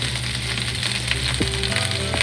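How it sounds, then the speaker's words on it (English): Cauliflower pieces sizzle steadily in hot olive oil in a pan, a loud dense crackling hiss that continues unbroken throughout, with a few faint clinks underneath. "Look at the sizzling noise,"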